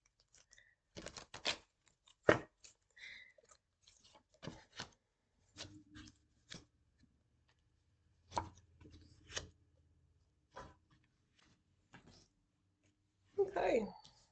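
A deck of cards shuffled by hand during a card reading, heard up close as a scattered series of crisp slaps, riffles and soft rustles with pauses between bursts.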